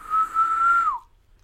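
Breath blown into a microphone from very close produces a steady, clear whistle-like tone that holds for just under a second and then drops away into quiet.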